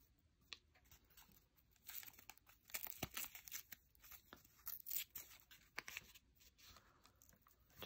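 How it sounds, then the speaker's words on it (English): Paper torn from a gelli print collage sheet, quiet close-up ripping and crinkling in irregular bursts, with sharper tears scattered across the stretch. "Just tore off the piece I needed."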